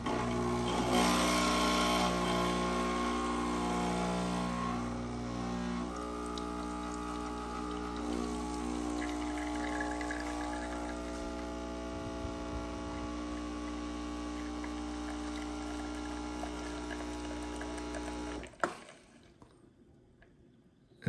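An espresso machine pump runs steadily through a shot, a continuous low hum with tonal drone and liquid flow, alone, stopping abruptly near the end.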